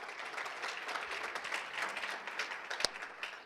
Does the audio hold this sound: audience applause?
yes